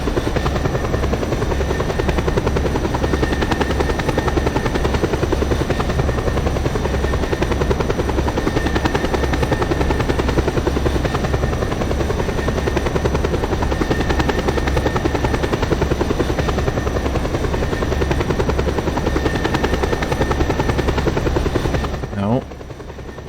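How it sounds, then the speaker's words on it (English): Helicopter flying in the Just Cause 2 video game, a continuous loud rotor and engine drone with rhythmic blade chop held steady for a long stretch, cutting off near the end, with someone talking over it. "This is why I'm taking the helicopter."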